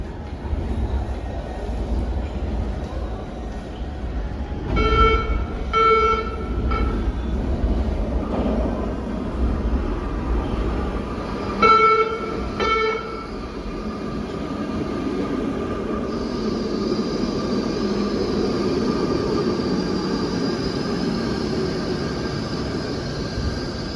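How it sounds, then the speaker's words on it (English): A Baltimore subway train rumbles and hums steadily underground, with electronic chimes and beeps sounding twice, then a high whine as it pulls away. "This is not the train we're getting on, this is one to Johns Hopkins."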